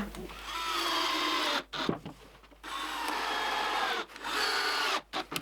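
A power screwdriver drives screws into a wooden board while building a circular saw guide, with three sustained whirring runs of about two seconds each, separated by short pauses.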